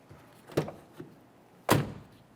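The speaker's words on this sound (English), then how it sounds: "Unlock the door." A few soft thunks followed by one louder mechanical clunk as a Toyota Sienna door lock actuator unlocks, close and quiet, with no voices.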